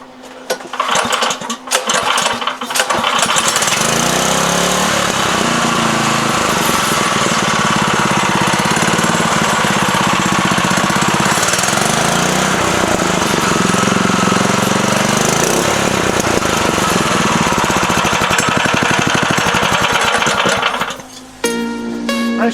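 A Harbor Freight small engine runs loudly in a buggy, a steady rough, rattling drone with knocking vibration that holds for about twenty seconds before cutting off near the end.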